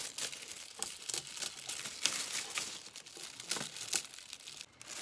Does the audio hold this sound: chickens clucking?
no